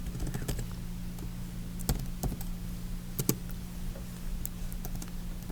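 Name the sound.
typing on a computer keyboard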